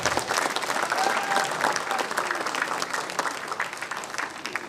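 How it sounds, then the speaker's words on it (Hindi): Steady audience applause fills a hall at a Viksit Bharat Sankalp political conference addressed by Railway Minister Ashwini Vaishnaw, a dense, even patter of many hands holding throughout, with a faint voice briefly audible beneath. "ताली बजाओ भाई।"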